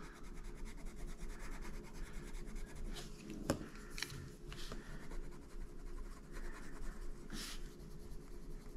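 Arrtx colored pencil laid down in layers on paper, giving a soft, steady scratchy rubbing with a few sharper strokes, close and continuous throughout, no voices.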